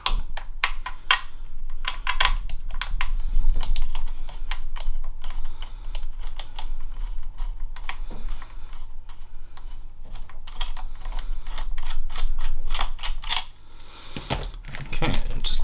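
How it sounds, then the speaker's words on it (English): Four screws being undone from the base of a Ferrari Meridian F80 with a screwdriver, giving close, irregular clicking and ratcheting ticks over a low hum, with no talking. "So 4 screws to remove here."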